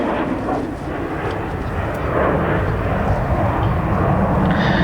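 A Saab Viggen jet at an airshow delivers a loud, continuous roaring rumble that swells slightly partway through, dense and powerful like a close pass.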